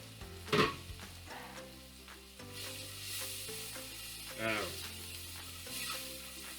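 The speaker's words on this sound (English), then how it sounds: "The reason why we add the garlic now is because we don't want it burned." Garlic sizzles in a hot pan, a soft, fairly quiet crackle with a couple of brief louder bursts, as if stirred, over a steady low background.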